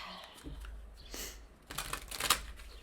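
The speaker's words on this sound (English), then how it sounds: "let's get a couple more shuffles in" Tarot cards being shuffled by hand, a few quick riffling bursts and papery slaps, close and fairly quiet, with faint talking nearby.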